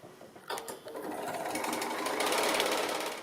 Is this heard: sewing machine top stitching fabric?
yes